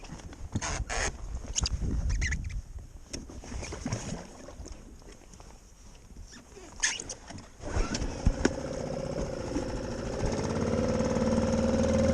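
A small outboard engine pushing a wooden sailing dinghy across open water, a steady mechanical drone that grows louder and more constant toward the end, with splashing and wind noise earlier on.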